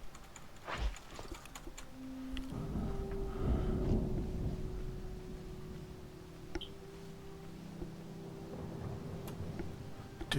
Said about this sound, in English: Probably not going to be a bad storm.